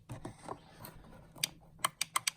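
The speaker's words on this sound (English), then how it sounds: "Button's nice and clicky." The button on a vintage Apple II paddle controller gets pressed several times, giving sharp close clicks that bunch up toward the end after a few softer handling sounds.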